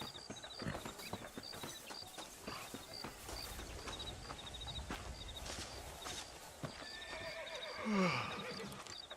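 A horse whinnies loudly near the end in the Western video game Red Dead Redemption, after a stretch of steady clip-clopping hooves walking across ground with faint background ambience.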